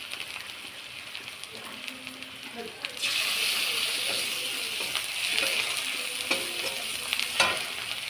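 Fish curry sizzling and frying in a pan, with mustard paste stirred in partway through; faint clinks at first, then a sudden loud steady hiss with scraping stir sounds, while someone talks over it.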